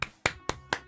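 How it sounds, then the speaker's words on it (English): Four sharp, evenly spaced hand claps ring out close and clear in a quick steady rhythm. "I'm still gonna give him some claps"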